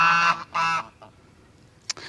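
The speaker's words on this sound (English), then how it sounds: "Now just today we noticed we had 3 more geese" A small group of geese on a hay farm honking loudly and close by in two long, harsh bursts, then a brief quieter call, with a short sharp squawk near the end.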